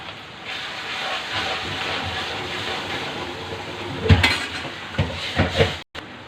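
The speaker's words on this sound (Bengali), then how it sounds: "এখন আমি পেঁয়াজটাকে একটু হালকা ভেজে নেব" Onion fries lightly with cumin powder in a pan for a cigar-roll filling, giving a steady, close sizzling hiss. A few sharp clinks of a utensil against the pan come near the end.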